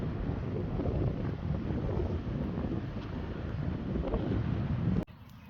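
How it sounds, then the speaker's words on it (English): Steady wind blowing outdoors on a cold, wet day at a sheep farm, a constant low rumbling buffet against the microphone that cuts off abruptly near the end. "The wind's blowing."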